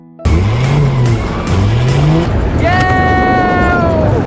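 A car driven during a driving test revs loudly twice, its engine pitch climbing each time, then settles into a sustained higher whine with a tire-squeal edge, close and continuous.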